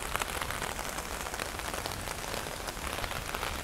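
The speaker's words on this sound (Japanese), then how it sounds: "本当に雨やばすぎてもう嫌になっちゃう" Heavy rain pours steadily onto a street in Nakameguro, Tokyo, as a dense, even hiss with scattered drops pattering close by, with no voices over it.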